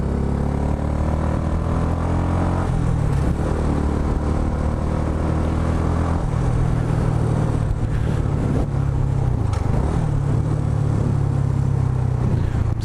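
A motorcycle engine drones steadily while riding and accelerating up toward about 60, its pitch rising and shifting through gear changes, with constant wind and road noise and no talking.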